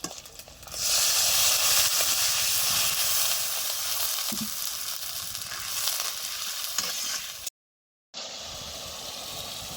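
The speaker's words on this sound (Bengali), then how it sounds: "ভালো করে ভাজো তাহলেই ঠিক হয়ে যাবে। পুঁই শাক, হলুদ, চিংড়ি মাছ দিয়ে দাও" Malabar spinach frying with turmeric and shrimp in a hot pan, a loud steady sizzle that fills the clip, broken by a short silent gap near the end before the sizzling resumes.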